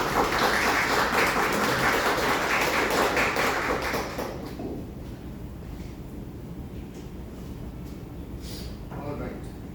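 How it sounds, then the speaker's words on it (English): A book reading audience claps for the guest author with a full, dense burst of applause for about four seconds. The clapping then thins out into a quiet room, where a few scattered sounds remain. "So please give her a big round of applause."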